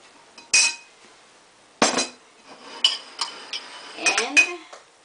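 Whole wheat pasta being served onto a plate brings sharp metallic clinks and clatters of utensils against a dish, several separate knocks spaced irregularly over a few seconds, close by and fairly quiet.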